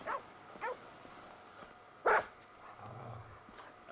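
A dog in the video game GTA 5 barks several times in short, irregularly spaced bursts, fairly faint against a quiet background hum.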